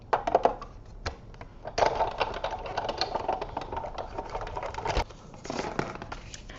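A die-cutting machine runs a card through a second time to cut it out completely, giving a steady mechanical rolling rattle with crunchy clicks and a sharp knock near the end, close and fairly loud with no talk.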